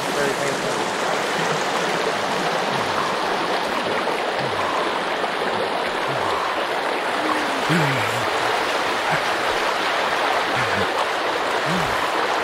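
Waterfall water roaring in Sons of the Forest, a constant near wash of splashing flow with low murmuring voice-like sounds surfacing intermittently beneath it.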